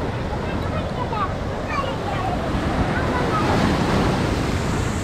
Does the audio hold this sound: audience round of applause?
no